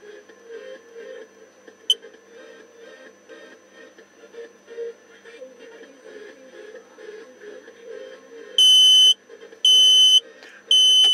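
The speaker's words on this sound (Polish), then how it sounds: "Jeżeli spadnie nam temperatura poniżej 30 stopni, załączy nam się alarm." Three loud electronic alarm beeps from a 4-channel LCD thermostat signalling temperature below 30 degrees, in quick succession after a stretch of quiet, faint pulsing electronic tones; the beeps are sharp and piercing.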